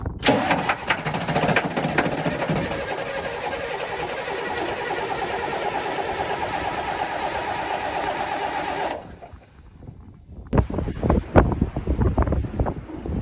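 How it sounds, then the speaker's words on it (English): Strong wind gusts in an open, sandy spot beside a 5-ton M1085 military truck, heard as loud, steady roaring buffeting on the microphone, then a brief lull before gusty bursts return. "Wind is really whipping now."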